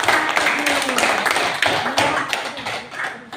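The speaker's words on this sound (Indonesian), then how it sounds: "Tepuk tangan untuk kelompok" A classroom group applauds a presenting group during a teaching session, a short burst of close hand claps mixed with voices talking over it.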